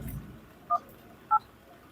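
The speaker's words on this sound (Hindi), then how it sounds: "अब दरोगा को ये फ़ोन लगाएंगे" Two short, clear telephone keypad dialing tones, spaced about half a second apart, are heard faintly and close by as a call is placed to a ward inspector during a flood report in Rewa.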